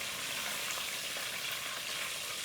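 Southern-style chicken pieces frying in oil in a pan, a steady close crackling sizzle that holds even and unbroken throughout with no voices.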